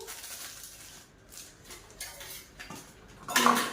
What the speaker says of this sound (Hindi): बर्तन वर्तन साफ करूंगी।